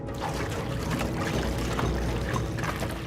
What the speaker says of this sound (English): He pours gas.